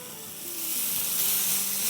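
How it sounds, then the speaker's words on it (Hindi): Chicken sizzles steadily in a pan while its sauce reduces, a continuous close frying hiss that swells slightly louder partway through, with no voices. "चार 5 मिनट हो गए होंगे ऑल टुगेदर चिकन को पकते हुए"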